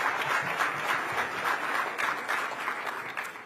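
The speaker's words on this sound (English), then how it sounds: "I think we applaud again." Audience applause at a national gala, a sustained, evenly dense clapping crowd filling the room for several seconds, moderately loud and without speech over it.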